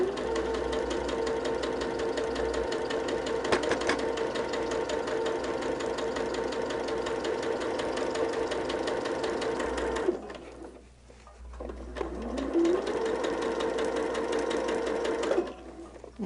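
Sewing machine stitching a quilt border runs loud and steady at a brisk, even pace for about ten seconds, pauses briefly, then resumes its rapid continuous stitching before stopping again.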